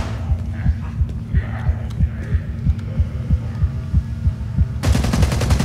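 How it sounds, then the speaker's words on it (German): Heartbeat effect in the video game Contagion, a steady throbbing double pulse with a low hum beneath, repeating evenly and close for several seconds before a burst of bright static cuts in near the end. "Mein Herzschlag erhöht sich."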